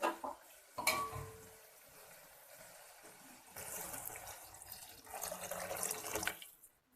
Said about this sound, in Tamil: இப்போ நமக்கு தேவையான அளவு தண்ணி ஊற்றிக்கலாம்